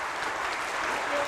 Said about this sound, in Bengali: আমাদের ক্রীড়া মন্ত্রীর জন্য একটা জোরে হাততালি হবে